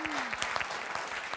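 A studio audience at a French televised film quiz final claps for the two finalists, brisk scattered applause at moderate distance, with a voice briefly over the start.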